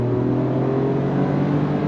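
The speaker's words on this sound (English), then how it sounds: "V6 power with that great sounding exhaust" A Ford Ranger Raptor pickup's twin-turbo V6 revs on throttle with a steady, loud exhaust drone, heard from inside the cab and sustained with no pauses.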